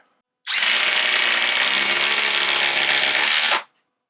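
A Milwaukee Fuel Gen 3 or DeWalt 12V Xtreme impact driver drives a 4-inch timber lock screw, one loud continuous burst of hammering whine lasting about three seconds, close up, with silence before and after.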